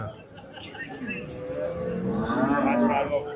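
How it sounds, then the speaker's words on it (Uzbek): Dairy cows at a livestock market low in drawn-out moos, one rising loud call building near the end, over a crowded background murmur of people talking. "Mana bu naves tagida ham sigirlar bor."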